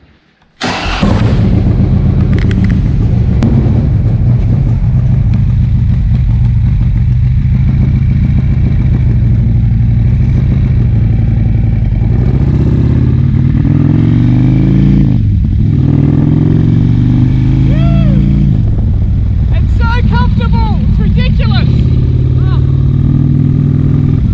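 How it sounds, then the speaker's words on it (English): A Harley-Davidson Road Glide motorcycle being ridden, its engine a loud, continuous close-up rumble with shifts in revs, and wind noise over a voice speaking at times. "let's ride my very first road glide"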